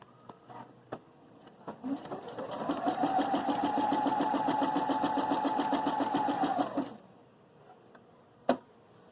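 A Viking Opal 650 sewing machine runs a zigzag stitch for about five seconds, a steady close whirring hum with rapid needle ticking, framed by soft clicks before and after.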